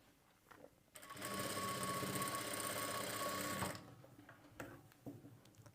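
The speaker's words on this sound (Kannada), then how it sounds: "ಪೈಪಿಂಗು ಈ ರೀತಿ ಫೋಲ್ಡ್ ಮಾಡಿ ಇದು ಅಷ್ಟೇ ಟೈಟಾಗಿ ಇಟ್ಕೊಂಡು ಸೆಂಟ್ರಿಗೆ ಹೊಲಿಗೆ ಹಾಕ್ಕೊಳ್ಳಿ." A sewing machine stitches piping onto a plain blouse in a village-style tailoring setup. It runs in one continuous, close, rapid mechanical whir for about three seconds, with quiet handling clicks before and after.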